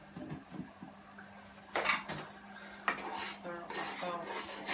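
A seafood boil sauce thick with onions is stirred in a pot, a spoon scraping and clinking against the metal in a few uneven strokes, up close, with faint background noise.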